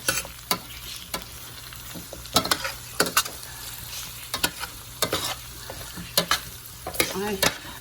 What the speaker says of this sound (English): now I'm going to stir that in there, so it can also incorporate and absorb some of the flavor of the garlic and onion and tomato